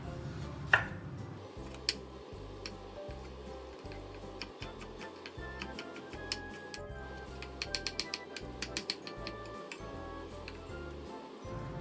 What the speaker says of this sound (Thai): มะเขือเทศนี้ก็จะหั่นเป็นลูกเต๋านะคะ